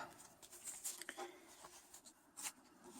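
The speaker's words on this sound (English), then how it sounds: "Let's see if we can manage a bit better shuffling here." Tarot cards being shuffled by hand, a soft papery riffling and patter in short bursts, faint and close, with no talk over it.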